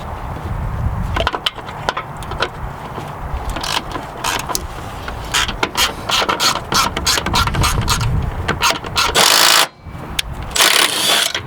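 A ratchet backs out 10mm bolts holding the ECU wiring harness in a K23 turbo RDX, with close, loud rapid clicking in repeated bursts, short pauses between strokes and occasional metallic knocks, and no voices.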